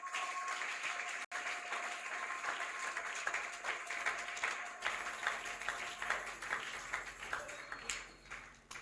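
A church congregation claps and cheers in praise, a sustained wash of applause with scattered shouts, fairly distant and even, ending with a brief drop and then resuming before fading slightly.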